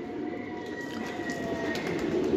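A Giribaz pigeon from a Palla-line flock cooing steadily against a constant rushing background hum, with a faint tone running through it and no voices.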